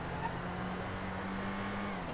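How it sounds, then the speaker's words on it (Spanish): Car engine revving and accelerating in GTA V during a driving test, a faint steady drone with a sustained engine tone holding across the whole stretch. "Acelero otra vez. Acelero."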